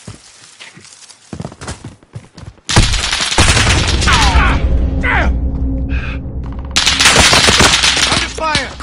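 Video game firefight with dense, loud automatic gunfire and rapid shots over a busy battle soundscape, near and continuous, with brief game voice callouts mixed in.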